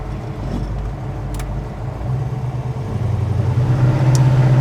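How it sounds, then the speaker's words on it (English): A customized 1970 Chevrolet Chevelle pulls away on a drive, its mid-pitched engine droning steadily and growing louder and rougher as it accelerates near the listener. "let's go ahead and take this thing for a drive now"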